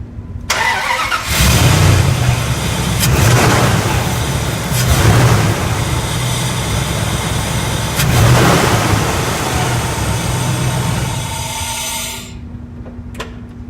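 A 2002 Ram pickup fitted with an aftermarket intake cranks and catches, then revs in several loud surges with idle between, before cutting off near the end.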